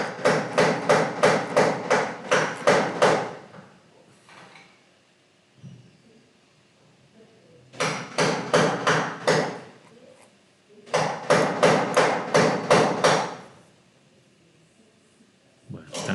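Construction work in a university physics department: rapid bursts of hammering come in three loud clusters of quick repeated blows, separated by quiet gaps with faint background noise.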